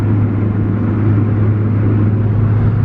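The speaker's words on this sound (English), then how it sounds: "I noticed my car started sounding like a V8" Ford Focus ST with a hybrid turbo on new Toyo R888R tires, heard from inside while driving, its engine giving a deep, steady V8-like rumble, loud and unbroken with no talk.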